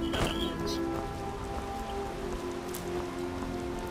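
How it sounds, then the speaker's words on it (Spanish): Steady rain patters on a surface in the video game Skyrim, a dense continuous hiss with scattered drops, moderately loud and without voices. "voy a refugiar aquí de la lluvia"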